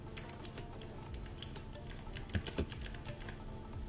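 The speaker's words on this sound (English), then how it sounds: "now I will type a text over here" Quick, light keystrokes on a computer keyboard, a soft steady patter of clicks heard close up in a quiet room with no talking.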